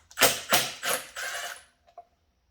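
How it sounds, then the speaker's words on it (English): On a Johnson 15 outboard motor, a hand tool works the flywheel nut loose in four quick, close metallic ratcheting bursts, followed by two faint clicks and silence. "First of all, let's get this flywheel off."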